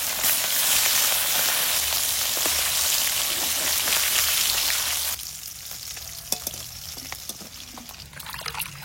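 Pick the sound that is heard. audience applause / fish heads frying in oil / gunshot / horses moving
fish heads frying in oil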